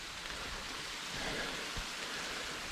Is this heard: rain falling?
yes